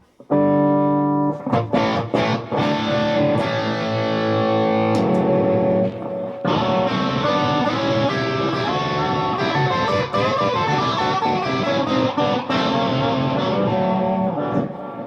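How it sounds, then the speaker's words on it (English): Electric guitar run through a harmonizer pedal, layered pitch-shifted chords ringing out loud and sustained, with a brief break midway before resuming. "let's hear the harmonizer for a sec"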